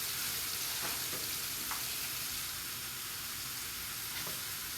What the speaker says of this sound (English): You have to continuously stir it so that they won't burn.